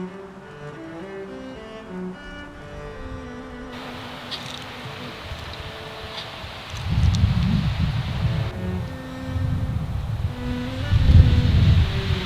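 Strong wind blows outdoors in the mountains around a parked truck, a steady broadband rush that swells into louder, gusty low-pitched buffeting in the second half.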